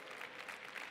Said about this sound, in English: Oh, big applause to you.